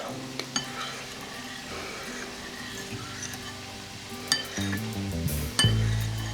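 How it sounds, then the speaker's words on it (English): Ground beef stir-fry with oyster sauce being stirred in a pan: steady sizzling underneath, with sharp clinks and scrapes of a utensil against the pan scattered throughout, close and clear. "I'm gonna mix it."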